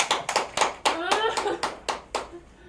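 A short burst of applause from a small group, a handful of loud sharp claps spaced unevenly, with a brief voice partway through.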